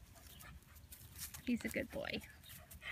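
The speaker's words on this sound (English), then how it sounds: "He's a great dog." A dog gives a few soft, close whimpers and pants in short bursts, mixed with a person speaking over it.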